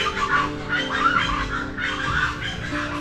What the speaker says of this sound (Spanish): Y ya escuchan por ahí el escándalo de los pájaros.